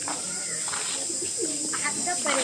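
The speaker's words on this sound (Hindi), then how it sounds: "कबूतर" Pigeons coo softly in low, rolling calls in a garden, amid steady background hum and a faint voice nearby.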